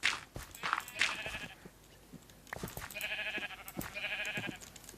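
Sheep in a Minecraft game bleat several times in short, wavering calls, a few clustered early and two longer bleats later, fairly close and clear with no talking.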